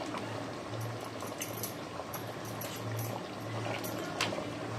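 A thick gravy bubbling and simmering in a pot, with soft pops and a faint splash as curd is stirred in.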